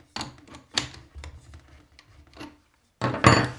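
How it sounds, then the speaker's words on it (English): A spanner tightens the cutter on a wooden router setup, giving short metallic clicks and scraping ratchet strokes in a few bursts, with a louder rasping grind at the end. "I'm just going to tighten it up again."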